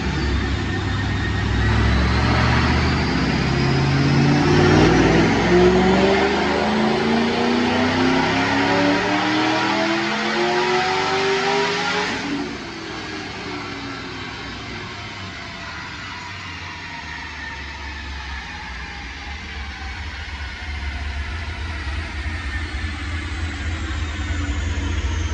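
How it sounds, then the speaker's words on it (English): A supercharged 2008 Mustang GT with a Paxton Novi 2200 and bolt-ons roars through a dyno pull, engine pitch and supercharger whine climbing steadily to a loud peak, then cutting off and settling to a lower idle-like drone. "Check out this dyno pull."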